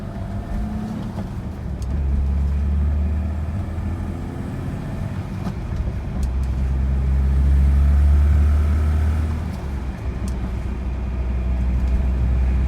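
A BMW E30 325iX converted to a five-speed manual drives along with a steady, low interior engine drone and road rumble that swells and eases as it changes speed.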